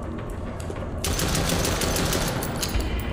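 Rapid automatic gunfire from a horror video game, a dense continuous burst that grows louder and fuller partway through and keeps hammering to the end, with no talking over it.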